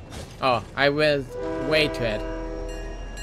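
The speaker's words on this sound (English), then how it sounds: "That's the train." A train horn sounds in Fortnite Battle Royale gameplay, sustained tonal blasts that hold and then fade, with a player talking over it.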